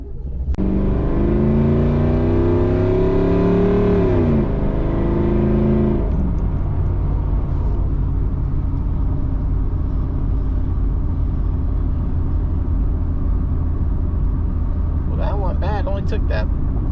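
A Chevrolet Camaro Z28 fitted with a new sensor accelerates hard on a test drive, its engine note climbing steadily, dropping at a shift, then droning on at speed as a loud continuous rumble heard from inside.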